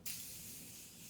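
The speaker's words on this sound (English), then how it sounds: "my Morphe Continuous Setting Spray, the best setting spray on the planet" Morphe Continuous Setting Spray mists out in a single close, airy hiss that starts abruptly and holds steady for about a second, with no talking over it.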